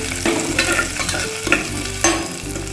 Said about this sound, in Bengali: এবার দিয়ে দিচ্ছি সবজিগুলো,